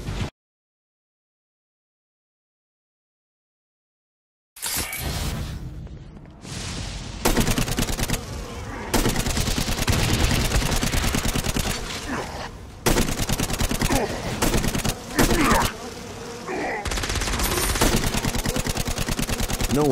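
Gunfire in Saints Row: Gat Out of Hell, with rapid automatic bursts and heavy shots after a few seconds of silence, repeated in loud volleys separated by brief pauses.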